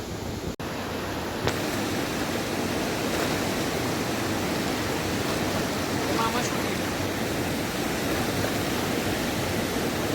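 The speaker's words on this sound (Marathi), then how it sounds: "की एकदम असं पाण्याचा आवाज एकदम प्रॉपर होतं" Constant broadband rush of flowing water at Machindragad Fort, steady and loud throughout, with a brief knock near the start.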